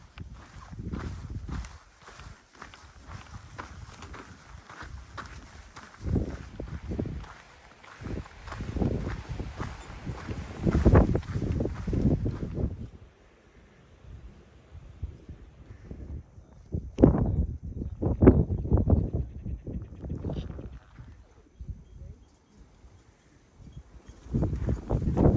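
Footsteps crunch along a windy hiking ridge line, uneven steps close by under gusty wind rumble that rises and drops in bursts, no talk.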